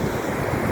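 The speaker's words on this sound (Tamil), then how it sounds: "இதான் கடல் கடல் கடல் கடல் கடல் கடல் கடல்" Sea waves wash in at Kovalam beach in a brief, dense hiss of surf mixed with wind buffeting the microphone, with no voices.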